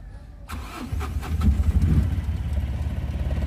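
A Mahindra Maxximo with an engine check light fault and code P0118 cranks with rapid starter chugging, catches and settles into a steady, close idle rumble.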